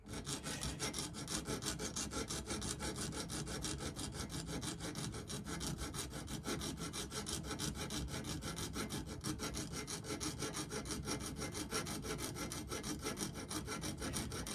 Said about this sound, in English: So as I'm filing it, I'm going to turn it, and I know when I've done a 1 full revolution.